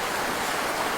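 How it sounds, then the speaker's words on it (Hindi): Stream water flowing steadily at a spot outdoors, a dense continuous rushing wash, loud and even throughout with no voices. "बहता हुआ पानी"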